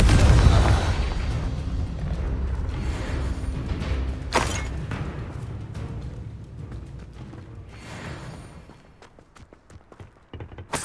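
Confringo fire spell blasts in the Hogwarts Legacy video game, a loud booming explosion at the start that rumbles and fades, followed by a second sharp burst, with combat effects trailing off.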